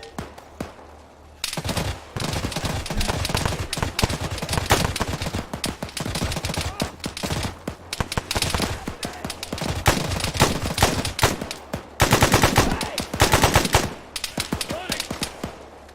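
Sustained automatic gunfire crackles through an Arma 3 firefight, dense rapid bursts near and loud with short pauses, continuing for the whole stretch with heavy reverberant shots.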